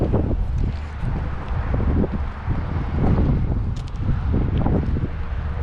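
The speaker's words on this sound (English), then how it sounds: "it's pretty windy out here" Wind gusts outdoors at a site holding two abandoned Dodge Challengers, buffeting the microphone with steady low rumbling and rustling throughout.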